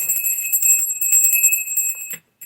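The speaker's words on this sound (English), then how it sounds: "I did get a new bell." New bell rung repeatedly, a bright ringing shimmer sustained with rapid tinkling strokes for about two seconds before stopping abruptly.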